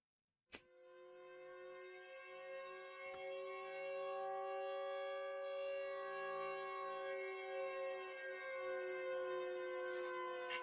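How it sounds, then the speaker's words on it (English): A video game tornado siren wails with a rich, layered tone, rising and sustaining loudly after a sharp start, droning on steadily without pause. "A siren sound? It's rare to get a tornado out here."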